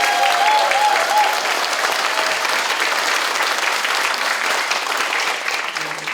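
An audience at a Korean political talk concert on welfare breaks into loud, sustained applause, dense clapping from a large crowd filling the hall and slowly tapering toward the end.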